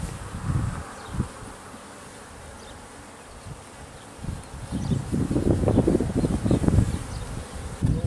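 Honey bees in a new hive on its fourteenth day, building comb: a steady close buzz from the open hive that swells louder and busier partway through, with no voices.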